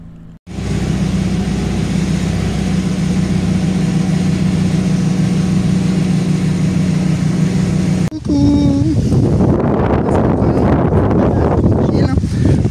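Steady roaring wind buffets the microphone for several seconds, then gives way to a louder, rougher gusting rush.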